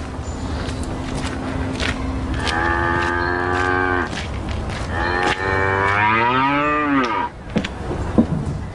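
Cows moo in two long, deep, drawn-out calls, the second rising and wavering, loud and close against a low rumbling background with no speech.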